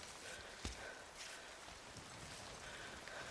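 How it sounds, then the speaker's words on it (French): Light rain falls outdoors on a mountain climbing route, a faint steady hiss with scattered soft drops and a brief knock, no talking. "Oh non, il pleut."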